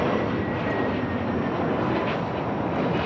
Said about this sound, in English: Another flight headed out to Tampa, Florida on this A321 Neo